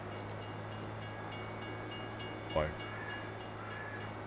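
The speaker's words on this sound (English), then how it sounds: "There's a train." A train in Farming Simulator 22 runs steadily past at a moderate distance, a continuous rumble with faint periodic clacking, and a brief sharper burst midway; a voice speaks briefly over it.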